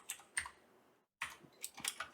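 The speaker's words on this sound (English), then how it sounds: "now we have to type in the command to confirm the identity" Quiet keystrokes on a computer keyboard as a command is entered, a few short bursts of clicks, a one-second pause, then a quicker run of taps, close and faint.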